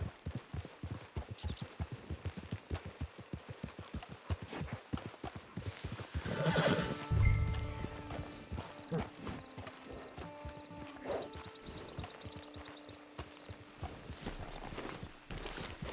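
Hooves clip-clop in a steady rhythm in the video game Red Dead Online, then a horse lets out a loud whinny, followed by quieter snorts and shuffling.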